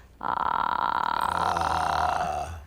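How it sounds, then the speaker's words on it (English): A low, rough, crackling voice held for about two seconds, a creaky rattling tone with no words. "Vocal fry is it's a rough voice quality that's actually natural"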